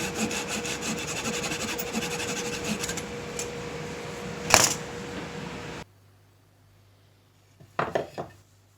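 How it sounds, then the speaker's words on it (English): A flush trim saw cutting off the excess from wooden dowels, with fast rasping back-and-forth strokes and a sharp snap as a piece breaks away, then quiet and a few light wooden knocks. "I trimmed the excess off the dowels using a dot trim saw."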